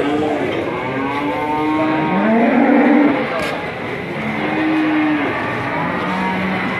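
Cattle low at the Ambarketawang cattle market in Jogja, two or three drawn-out moos rising over steady crowd and traffic noise, fairly close and loud.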